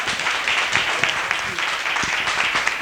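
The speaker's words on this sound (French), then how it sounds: "On va applaudir quand même Jean-Pierre." An audience at a special broadcast from Lausanne applauds audiovisual artist Jean-Pierre Onema, a short burst of thick, continuous clapping from a room of people at fairly close range.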